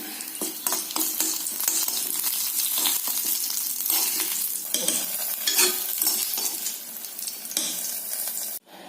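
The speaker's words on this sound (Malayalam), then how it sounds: "ഉള്ളി കറിവേപ്പിലേക്ക് മുപ്പിച്ച് ഉള്ളിയും കറിവേപ്പിലയൊക്കെ ഇട്ടു" Onion and curry leaves fry in hot oil as tempering for a jackfruit seed and mango curry. A continuous crackling sizzle is broken by repeated stirring scrapes close up, then cuts off abruptly near the end.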